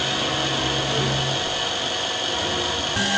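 Electric lens drilling machine motor running with a steady whir and mechanical hum, constant and close, with a slight shift in tone near the end.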